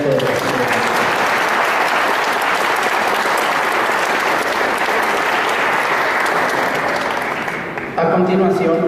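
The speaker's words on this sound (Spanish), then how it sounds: "Pido aplausos" Sustained applause from a large audience at a legal conference in Mexico, steady and dense clapping that continues for several seconds before tapering off as another sound begins.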